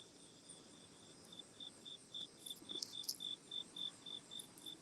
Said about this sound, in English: Somebody has happy crickets.